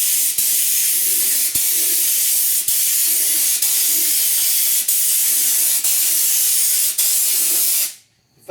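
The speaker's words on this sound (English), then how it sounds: "if you raise the gun up with that nozzle, it's going to shoot it wherever you point the gun" A spray gun applies Lizard Skin spray-on insulation to the doors of a 1969 C10 truck, a loud, close, continuous hiss broken by brief pauses, cutting off near the end.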